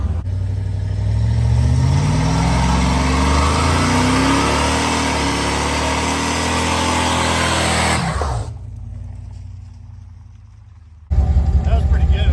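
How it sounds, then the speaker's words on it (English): A 1998 Dodge Dakota R/T pickup with 3.91 gears and a limited-slip rear doing a burnout: loud sustained engine roar and tire squeal for about eight seconds, then a sudden drop to near quiet before the engine revs again. "yes, it will do a burnout"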